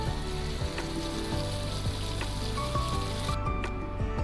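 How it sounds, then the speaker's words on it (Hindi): Masala for chicken yakhni pulao fries in oil in a pan until the oil separates. It gives off a steady, close, dense sizzle with faint crackles and occasional stirring clicks, and no voices are heard. "5 मिनट तक हम इसे पकाएंगे जब तक तेल ऊपर नहीं आ जाता।"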